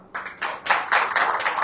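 Migration department staff applaud at a press conference: a few scattered claps swell within a second into close, steady, moderately loud clapping.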